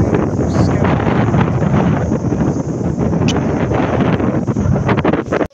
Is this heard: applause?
no